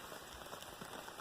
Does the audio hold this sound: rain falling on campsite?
yes